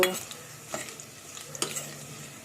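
Dry poha sizzles and crackles in a little oil, with a steady fry under repeated scraping stirs of a spoon against the pan, no voices.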